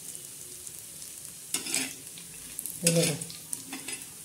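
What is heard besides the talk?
coconut being dry-roasted and stirred in a pan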